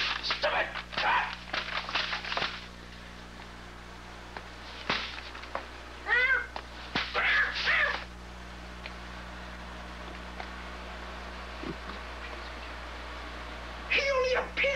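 A cartoon cat meows several times in short, bright bursts, with voices speaking and exclaiming around and between the calls.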